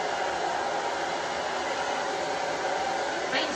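A hair dryer blows steadily over a wet watercolor Christmas tree painting, a loud, constant broadband whoosh running unbroken from start to finish with no talking.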